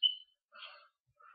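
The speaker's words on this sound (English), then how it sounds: "You hear these birds in the background, right?" Birds chirp faintly in the background: a thin high call at the start, then two short bursts of twittering separated by silence.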